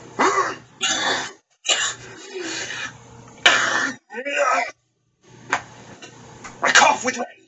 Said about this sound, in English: I cough with rage.